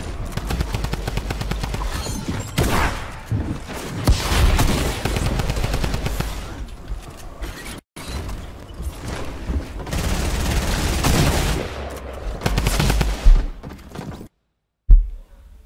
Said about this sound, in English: I shot the shotgun and nothing comes out